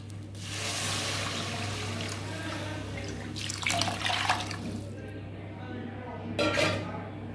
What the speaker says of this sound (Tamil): அதுக்கு 6 கப்பு தண்ணி விட்டுக்கலாம்.